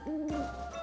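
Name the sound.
owl hooting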